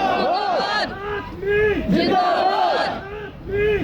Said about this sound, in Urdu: کشمیریوں کی ریلی میں پنجاب بنے گا خالصتان کے نعرے بھی گونجتے رہے